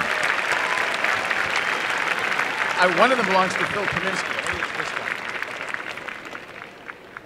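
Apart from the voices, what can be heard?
audience applause for nuclear engineering graduates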